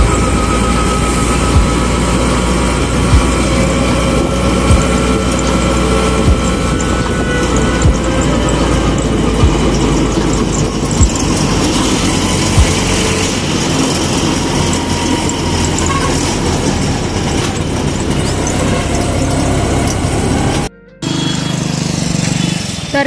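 An auto rickshaw engine rattles and chugs continuously from inside the moving vehicle, loud and close, with mechanical clatter and a brief dropout near the end.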